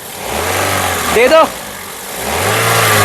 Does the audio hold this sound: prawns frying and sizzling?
no